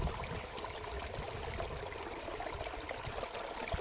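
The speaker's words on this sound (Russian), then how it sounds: "Вот как все течет. И совсем немножко воды осталось тут." A small stream of water runs over stones beside a little footbridge, a steady, even trickling and babbling rush that stays low and continuous throughout with no voices.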